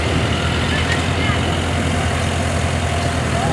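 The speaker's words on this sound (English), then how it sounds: "Now we got a 1950 Farmall white demo coming here." A 1950 Farmall tractor engine runs at a tractor show, a steady loud low rumble that holds evenly throughout, with faint crowd chatter in the background.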